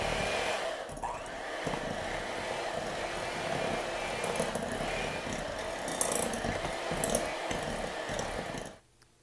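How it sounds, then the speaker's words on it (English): An electric hand mixer runs nonstop, creaming room-temperature butter with sugar for gingerbread loaf batter, a close, steady whirring hum that cuts off just before the end. "I'm just going to blend the butter in with the sugar"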